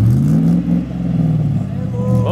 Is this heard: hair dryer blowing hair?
no